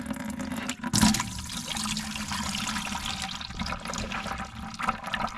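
Oily water drains from the oil pan of a Farmall 300 tractor with stuck piston rings, a steady close splashing trickle running throughout.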